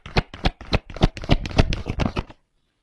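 Tarot cards from a deck are drawn and flicked in a quick run of about a dozen crisp, close papery snaps, then silence.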